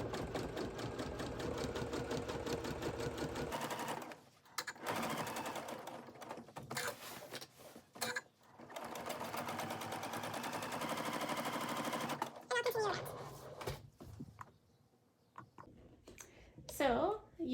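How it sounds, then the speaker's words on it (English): A sewing machine stitches around the pocket of a big Ikea bag, running in long loud rapid bursts separated by short pauses, with a softer ending of scattered clicks and handling sounds. "So you've sewn around the pocket"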